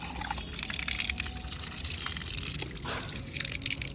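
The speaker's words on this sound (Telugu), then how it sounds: "మా నివ్యని చూసారా ప్లాంట్స్కి వాటర్ ఎంత బాగా వేస్తుందో." Water being poured onto garden plants in the evening, a faint trickling and splashing with a few brief gushes against quiet outdoor background.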